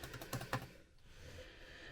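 Fingers type on a new computer keyboard, a quick cluster of close, crisp key clicks during the first half second, then a quiet room hum.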